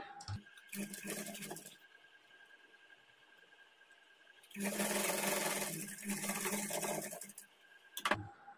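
A sewing machine runs in two bursts, stitching the shoulder joint of a plain blouse at a half-inch margin; a short run starts it, then a longer, louder steady whir follows after a pause, with no talking.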